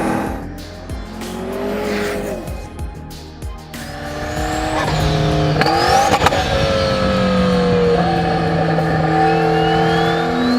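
A 1200 HP triple-turbo McLaren accelerates hard along a canyon road, its engine note climbing and rising through gears with squealing tyres, loud and close throughout.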